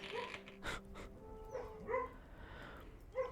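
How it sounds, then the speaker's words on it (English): A sleeping dog gives soft, muffled little barks and whimpers while dreaming, a few brief yips near the end, set against faint game sounds. "If you're hearing little barks, it is not the game. It is one of my dogs having a little slumber."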